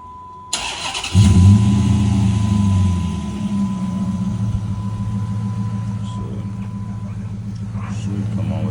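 A Dodge Magnum engine cranks briefly and starts, then settles into a loud, steady close idle rumble after a click and a short chime-like tone.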